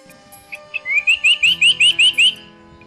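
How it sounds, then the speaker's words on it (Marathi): A male bird gives its breeding-season call, a run of about eight quick, evenly spaced bright whistled notes, close and clear over a quiet background. "विणीच्या हंगामात नर पक्षी अशी साद घालतो"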